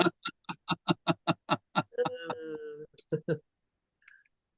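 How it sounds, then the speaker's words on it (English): Keys on a computer keyboard clack in a quick, even run of close clicks, then someone briefly speaks before a few more faint taps. "Just typing something in here real quick, Bill."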